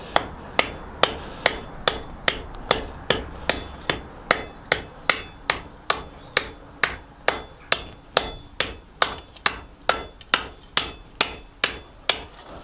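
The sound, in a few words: hammer forging hot metal spearhead on anvil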